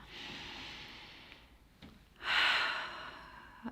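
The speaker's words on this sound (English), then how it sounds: "let's start by taking a deep breath here" Two deep breaths, a slow inhale and a longer, stronger exhale, audible close up and alone, the second one markedly louder and airier.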